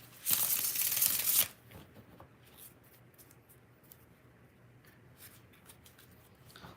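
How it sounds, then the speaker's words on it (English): Tarot cards are shuffled in a short, crisp burst of papery riffling lasting about a second, followed by quiet room tone with faint small rustles and taps. "Two more shuffles."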